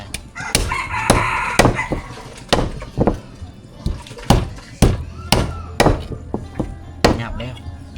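Repeated sharp chopping blows, roughly a dozen irregular heavy thwacks, as a whole chicken is hacked apart outdoors in a Lao village, with a rooster crowing nearby early on and brief voices in the background.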